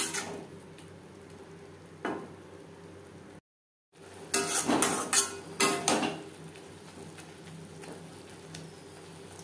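Spinach cooking on medium flame in a pan for a vegetarian Bengali palong shak, with a soft sizzle and several sharp scraping stirs and utensil clinks, broken by a brief silence.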